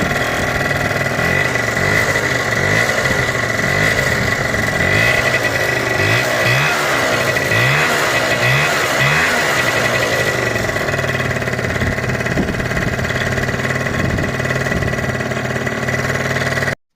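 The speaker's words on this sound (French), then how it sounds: "le moteur a redémarré, donc je l'ai redémarré au kick" A Peugeot Speedfight 2 scooter's small motor idles loudly and close by after a kick start, chugging steadily, with a brief rise in revs in the middle before it settles back.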